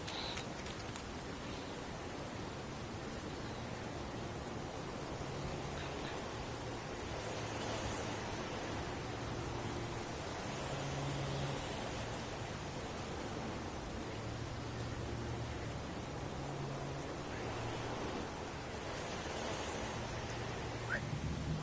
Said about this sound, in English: Little rain never hurt nobody.